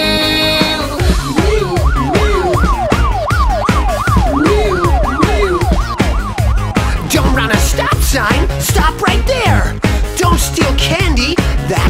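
Wailing police car siren sweeping up and down in repeated cycles within an upbeat children's song, loud and mixed over a driving beat and music.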